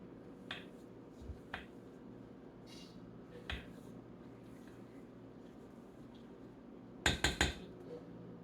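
Biscuit dough for a chicken pot pie topping is mixed in a bowl, with a few sharp spoon clicks against the bowl spaced apart. A quick cluster of three clacks comes near the end over quiet background.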